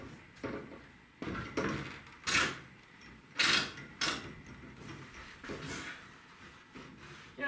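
An outdoor kitchen door that has not been opened in a while is worked open with a series of knocks, scrapes and creaks, heard close up in irregular bursts.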